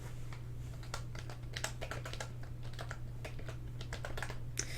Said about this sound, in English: so I can't really see what I'm typing